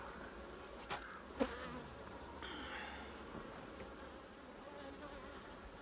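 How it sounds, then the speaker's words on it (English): Honey bees buzzing around an open hive during a honey harvest in December, a continuous low hum with a louder passing buzz, steady and fairly close, with a couple of brief knocks. "you can hear that buzz, that hum, that angry noise starting to calm straight down"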